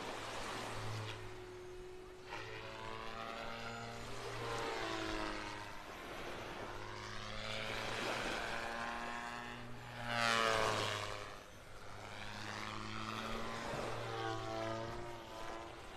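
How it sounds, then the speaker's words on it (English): A model airplane flies overhead at a beach in North Naples, Florida, its steady propeller drone rising and falling in pitch as it passes, with a slight swell around the midpoint. "that's a model airplane you're hearing"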